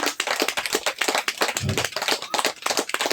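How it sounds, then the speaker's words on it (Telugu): Audience clapping to welcome someone speaker at a Telugu meditation gathering, a brisk run of many hands clapping in a close, lively burst that continues steadily. "మేడం గారికి ఒకసారి గట్టిగా క్లాప్స్ కొడదాము."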